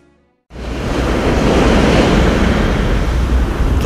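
Wild, heaving Mediterranean Sea waves wash against the shore beside ancient Caesarea's seaward walls, beginning abruptly after a quiet moment and then roaring as a loud, continuous broadband surf with wind noise buffeting the microphone.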